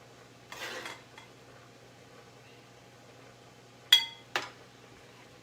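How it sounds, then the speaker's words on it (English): Spoon scraping and clinking against a dish while bruschetta sauce is spooned onto pasta, a quiet room tone broken by a soft scrape early on and two sharp metallic clinks later. "I'm just gonna spoon on some of this delicious bruschetta sauce."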